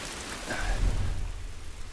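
Steady rain falls with a soft, continuous patter in the video game The Last of Us, joined midway by a low rumble; no one speaks.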